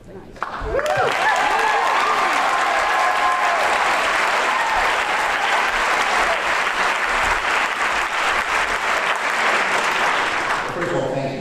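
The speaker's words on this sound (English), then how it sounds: "you getting a lot of applause here" An audience at a public town hall event breaks into loud, sustained applause that starts abruptly and continues strong to the end, with some voices and cheers mixed in near the start.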